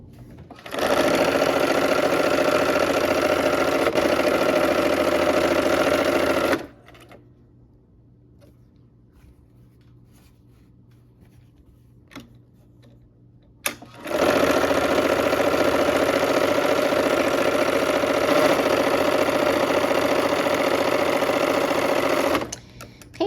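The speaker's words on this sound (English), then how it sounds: "We're going to sew a 1/4 inch on both sides of this line." A sewing machine stitches a quarter-inch seam along a marked line in two long, steady runs of loud motor hum, separated by a quiet pause with a few faint clicks.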